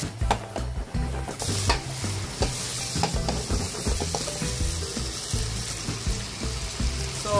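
Shrimp sautéing in butter with a splash of soy sauce: a dense, continuous sizzle with frequent scraping and stirring strokes, loud and close, with no voices.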